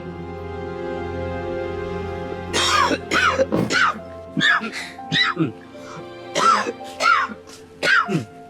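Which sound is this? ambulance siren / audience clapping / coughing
coughing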